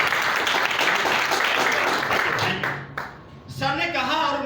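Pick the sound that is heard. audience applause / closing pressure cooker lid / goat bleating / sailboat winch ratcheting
audience applause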